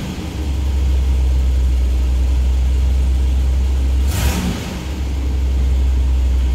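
The 7.7-liter V8 of a 1968 Cadillac Fleetwood Brougham runs with a steady, loud low rumble close by, holding a fast idle with a brief surge partway through.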